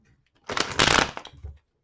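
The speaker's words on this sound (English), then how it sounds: "Two more shuffles." A deck of tarot cards being shuffled by hand close up, a quick burst of riffling and sliding card noise lasting about a second, with silence on either side.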